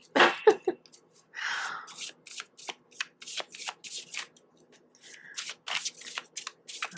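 Tarot cards being shuffled by hand at close range, a run of quick papery riffles and slaps in an uneven rhythm, with faint breathing in between and no talking.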